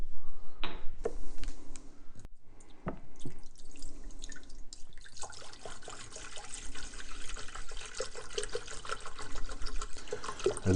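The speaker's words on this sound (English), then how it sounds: "the only other thing we need to do is put some water in here." Water splashes and trickles into a pot for warming crystallized honey, starting with a few intermittent pours and drips, then a steady running stream filling the container.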